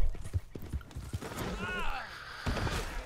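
Horse named Cinnamon in the Red Dead Online game, with a few hoof clops followed by a clear rising and falling whinny, while someone talks over it.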